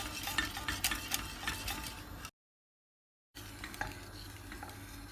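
A milk pudding mixture with egg yolk is whisked continuously in a pot, giving close, rapid scraping and ticking strokes over a soft bubbling bed, with a brief silent gap partway through.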